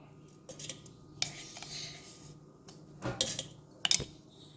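A spoon stirs sugar into grape juice in a container, making soft, scattered clinks and scrapes in short bursts. The quiet, intermittent taps end in a few sharper knocks.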